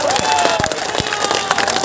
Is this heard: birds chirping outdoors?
no